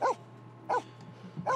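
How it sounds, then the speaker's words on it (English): A dog barks in The Sims 4, three short barks spaced evenly apart, fairly close and alone over a low steady hum of game ambience. "He keeps barking at us."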